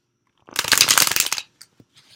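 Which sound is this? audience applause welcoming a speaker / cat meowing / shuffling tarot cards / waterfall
shuffling tarot cards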